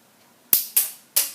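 Mini Lego gun firing: three tiny, sharp snapping clicks in quick succession, faint and close, each with a brief decay, against near silence.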